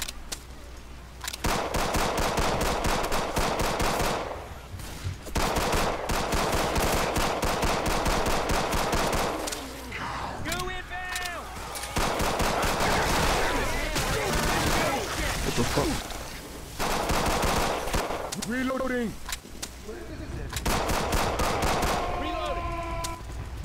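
Rapid, dense gunfire in Left 4 Dead 2 during The Passing, heard as long sustained bursts of shots broken by short pauses, with players' voices talking and shouting over the shooting throughout.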